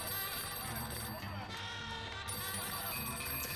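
A telephone ringing in the video game Mafia 2 while the call goes unanswered, a steady electronic ring at low level that continues throughout, sitting under someone talking.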